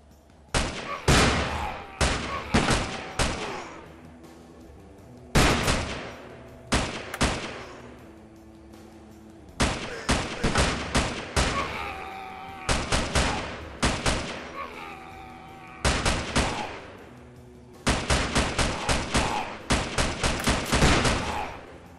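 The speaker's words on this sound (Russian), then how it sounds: "Снаружи раздаются выстрелы" Gunfire outside a shelter in the video game 12 is better than 6: sharp, loud shots in irregular bursts and clusters, some single cracks and some rapid volleys, with brief pauses between them and no talk.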